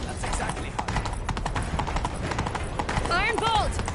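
Horses set off in a chase, quick hooves clip-clopping in a steady rhythm under raised voices, with a horse whinnying near the end.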